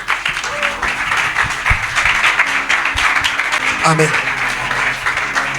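Church congregation cheering and applauding in worship, a dense continuous roar of clapping and voices with a speaker talking over it.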